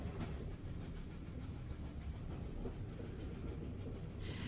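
A train rides along in The Room 3, a steady low rumble with faint rhythmic clatter, continuous and quiet.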